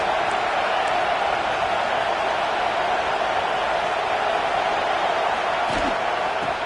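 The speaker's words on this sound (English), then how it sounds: "This crowd trying to make life miserable for this offense." A football stadium crowd roars as a dense, continuous wash of cheering and noise, loud and even throughout with a couple of faint thuds.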